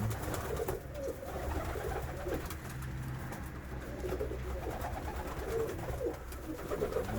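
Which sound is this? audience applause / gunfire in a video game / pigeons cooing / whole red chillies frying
pigeons cooing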